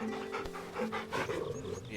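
Dog panting in the video game Final Fantasy 16, a steady close breathy rhythm that runs under game music and other sounds throughout.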